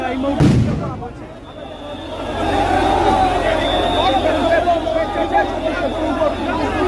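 A police sound grenade explodes at a protest march by BDR members in Shahbag, Dhaka: one sharp, loud blast near the start, followed by a sustained roar of crowd noise and street commotion.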